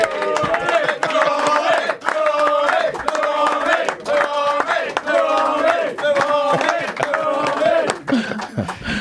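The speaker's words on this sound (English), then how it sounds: "Big round of applause, make some noise." Studio audience cheering, whooping and chanting rhythmically for a guest on a football-themed TV show, a loud, lively crowd noise with clapping mixed in throughout.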